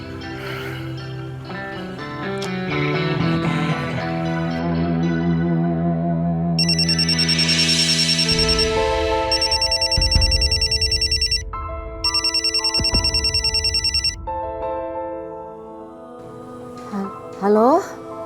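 A telephone rings in an Indonesian drama series, its electronic ringtone repeating in long bursts with short pauses over background music.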